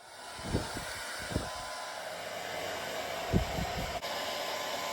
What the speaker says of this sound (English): I thought about trying to blow dry it and see how it looks stretched.